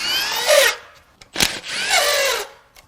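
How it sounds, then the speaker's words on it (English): A power tool, likely an impact driver, unbolting the oil pan on a 2019 GMC Sierra 5.3L L84 V8 engine: two whirring bursts of about half a second each, separated by a sharp knock, loud and close. "I'm going to unbolt the pan and drop it in its current position"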